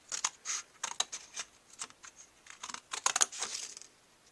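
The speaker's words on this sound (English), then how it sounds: "Just give it a little snip to cut it out." Scissors snip out a small paper triangle for a handmade paper bead, giving a series of quick, crisp, close cuts and rustles in uneven bursts, with no voices.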